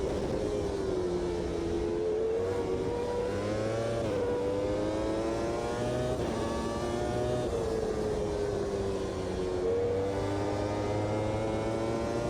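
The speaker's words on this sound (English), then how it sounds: "I'm using a lot of gear changes also for engine braking or stabilizing the car." Formula car engine from a 1995 F1 racing video game set at Monza, a continuous loud high-pitched whine that climbs and drops repeatedly with quick gear changes and engine braking, with no talk over it.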